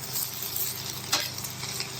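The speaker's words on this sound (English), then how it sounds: "You bring your spatula in." A metal spatula scrapes beneath an oversized portion of hash browns sizzling on a hot griddle, with a steady fry hiss and one brief sharper scrape near the middle.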